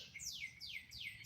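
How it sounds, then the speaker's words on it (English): A bird outdoors among pine trees repeats a quick descending chirp three or four times in a steady rhythm, fairly faint and set against a low background rumble, with no voices. "you can hear the birds back here."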